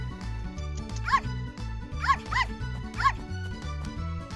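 A female puppy gives a series of high yips and barks, spaced about a second apart, over a steady low rumbling background.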